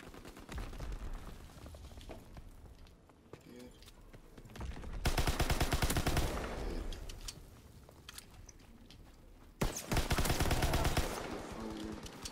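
Heavy gunfire in the WW2 trench combat of Call of Duty WW2, rattling bursts with two loud sustained volleys, all under chatter.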